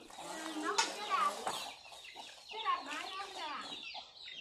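Free-range farm chickens cluck and chatter at close range in repeated short bursts, with faint voices murmuring in the background.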